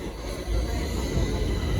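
A Stockholm metro train arriving at a platform, a continuous heavy low rumble and roar with a faint high whine above it.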